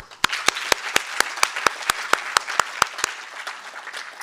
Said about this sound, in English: Please join me in applauding Prof. Nhlapo, Prof. Zee Vogel, and Prof. Mid